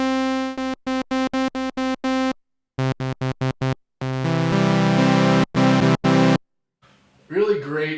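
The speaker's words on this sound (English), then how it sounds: "So we're just doing a full saw wave basic patch," Basic full sawtooth patch on a Moog Matriarch analog synthesizer, played as a run of short staccato notes, then a sustained chord and a few more stabs, bright and buzzy, with no voices over it.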